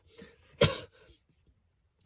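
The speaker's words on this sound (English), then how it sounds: "sorry I'm coughing today" A single sharp cough bursts out near the mic, with softer breathy throat sounds before and after, then quiet.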